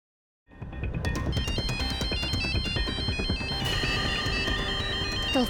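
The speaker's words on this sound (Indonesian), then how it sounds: "Telepon dari Ami" A mobile phone ringtone for an incoming call starts abruptly and plays continuously as a loud, bright electronic melody with repeating tones, alone without any voices.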